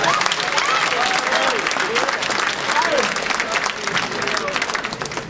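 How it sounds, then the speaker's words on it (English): Steady applause from a crowd, hands clapping continuously and fairly loud for several seconds, fading slightly toward the end. "Give her a hand clap."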